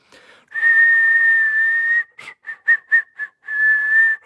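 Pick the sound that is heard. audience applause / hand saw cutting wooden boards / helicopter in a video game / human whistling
human whistling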